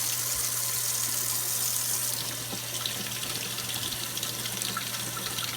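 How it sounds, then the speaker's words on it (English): Warm tap water runs steadily from a faucet over a glass piece being rinsed of Armour Etch glass-etching cream, a continuous close splashing hiss with no talking. "Ready to rinse this off. And I'm just going to use warm water."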